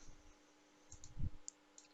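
A computer mouse clicks while someone works in Fusion 360: a few soft, close clicks spread across a quiet stretch with faint desk noise.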